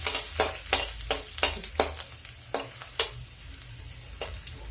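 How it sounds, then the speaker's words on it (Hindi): Garlic and green chili frying in a pan for a cabbage and pea dish, a close steady sizzle punctuated by a series of sharp rhythmic scraping stirs that slow toward the end. "ये देखिए बस लहसुन, थोड़ा सा हरा मिर्चा, अब इसको भून लेते हैं"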